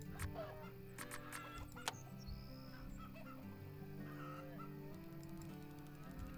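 Chickens cluck repeatedly in a farm management simulation game, short clucks and calls scattered over steady background game music, with no talking.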